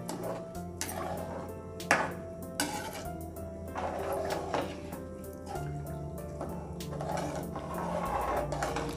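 Mung dal khichdi being stirred in a cooking pot, with steady scraping and clinking of a spoon against the metal over a low continuous background hum, close and moderately loud, no talking.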